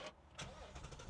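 A muscle car's engine cranks and catches in about a second, short bursts of starter noise rising into a rumble, heard close and fairly quiet.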